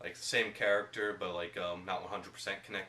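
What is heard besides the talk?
No distinct noise like a dog, phone or traffic.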